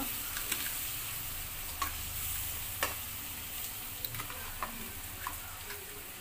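Ingredients fry in a pan with a soft, steady sizzle, broken by occasional faint ticks and stirring clicks, fairly quiet and close with no talking.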